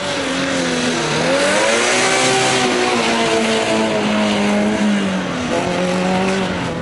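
An Oltcit car races on a track, its engine droning loud and steady with shifting pitch while the tires squeal and skid through the turns, heard close with no talking.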